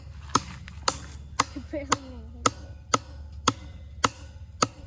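A small hammer drives large fence staples for a hog fence with nine sharp, evenly spaced strikes, close and loud, over a low background hum, with brief talk in between.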